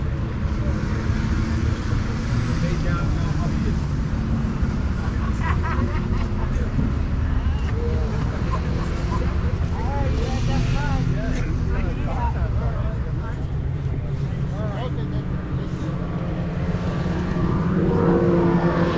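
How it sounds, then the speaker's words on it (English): Vintage snowmobiles ride around the grounds at Snodeo 2025 in Old Forge, NY, a steady engine drone with passing revs under constant crowd chatter and talk throughout. "trying to catch sleds as they're riding around"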